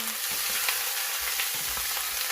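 Meat bones frying in hot oil in a pot while being stirred, a steady bright sizzle with soft scraping and clinks from the stirring, close and continuous with no talking.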